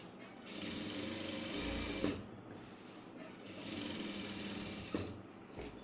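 A sewing machine stitches lining onto a churidhar, running in two sustained whirring bursts with a steady mechanical rattle, close and fairly loud, separated by a short pause.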